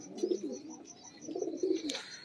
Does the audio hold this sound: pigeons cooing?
yes